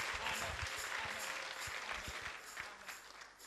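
A church congregation claps for several seconds, a dense burst of many hands that starts loud and slowly thins toward the end.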